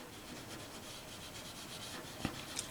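Walnut oil being rubbed onto the finish of a 1967 Gibson LG-0 guitar makes a quiet, close, continuous soft rubbing swish in a steady back-and-forth rhythm, ending in a couple of faint taps.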